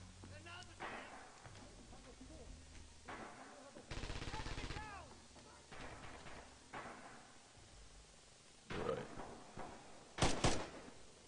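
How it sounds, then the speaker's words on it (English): Rifle shots in the video game Red Orchestra 2, a few sharp cracks spread across the stretch, including a close pair near the end, mixed with other battlefield noise and players talking. "I don't know why I fire that second shot."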